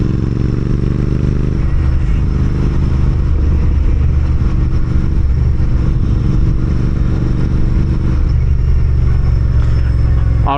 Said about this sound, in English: Gotta adjust my throttle.